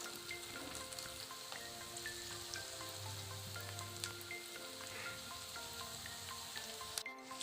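Onions sizzle steadily in a hot pan while being stirred toward golden brown, a continuous crackling hiss with small scrapes and pops, close and even throughout, with no talking.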